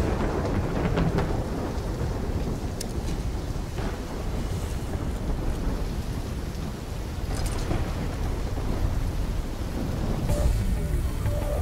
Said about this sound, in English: trying to grab everything they can before the worst of the storm hits.